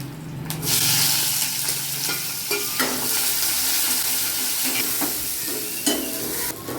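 Small onions browning in sesame oil, a steady, loud sizzle with a spoon scraping and stirring against the pan at intervals, close by and with no talking.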